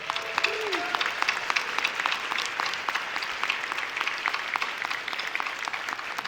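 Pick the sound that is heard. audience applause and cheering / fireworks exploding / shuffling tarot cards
audience applause and cheering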